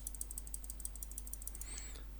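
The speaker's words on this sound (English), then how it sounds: "and we'll do the mouse clicks." A computer mouse clicks rapidly in an even run, picked up faintly by an MSI Maestro 300 USB gaming headset microphone over a low steady hum.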